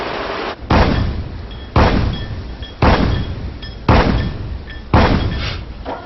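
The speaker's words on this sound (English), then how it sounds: "And the 76mm cannon, firing 120 rounds per minute." Five loud, heavy shots from a 76mm naval cannon boom at a steady pace roughly a second apart, each followed by a rumbling decay.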